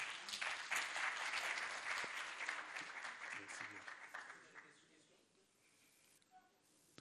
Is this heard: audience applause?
yes